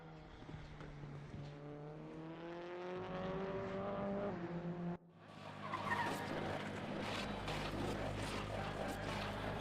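An F4 Tatuus open-wheel race car in RaceRoom, heard at TT Circuit Assen, revs up with a rising engine whine and then cuts abruptly to a harsh, noisy rush of tire squeal and engine roar, close and loud.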